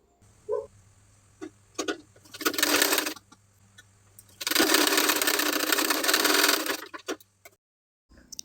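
Sewing machine stitching the pleats of a sleeve in two bursts, a short run then a longer steady whirring run, with clicks and handling noises between, no talk.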